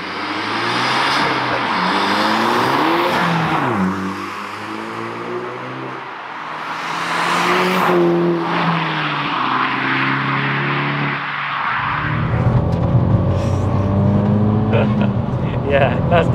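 A 320bhp MK5 Golf GTI Edition 30 with a BCS valve exhaust drives past loud and close, its engine note rising and falling through revs with a throaty exhaust drone throughout.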